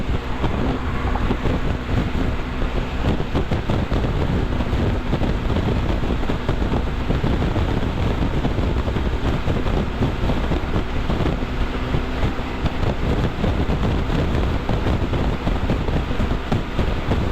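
Strong wind buffets the microphone in a constant low roar, loud and rumbling throughout without any break.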